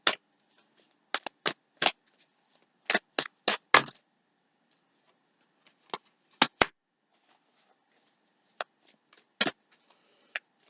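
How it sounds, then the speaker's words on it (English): Tarot cards riffle and slap in quick bursts, a cluster of sharp shuffles early on and then scattered single flicks, close and fairly quiet with no talking. "Couple more shuffles, see if anything else wants to come out."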